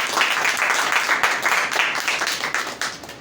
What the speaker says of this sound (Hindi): जिंदा खुदा के लिए जोरदार ताली।